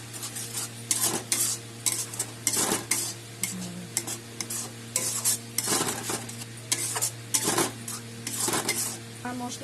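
Spices with turmeric and red chili powder being stirred in a hot pan for a Bengali dried-fish dish, a steady sizzle under repeated scraping strokes of a utensil against the metal, close and fairly loud, no talking.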